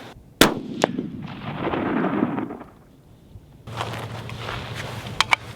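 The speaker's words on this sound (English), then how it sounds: "I think I'm gonna shoot one more, just make sure they group, make sure they touch" A single sharp, loud rifle shot cracks out at an outdoor range, followed by a rolling rumble that fades away. A few faint clicks come afterward.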